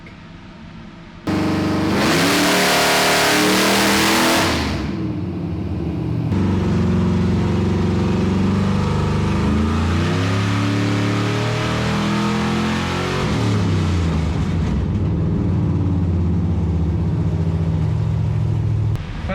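A Whipple-supercharged G Body V8 tuned with a Holley Terminator X roars on a dyno, climbing through a long, loud wide-open pull with a brief burst of hissing noise early on, then easing down near the end.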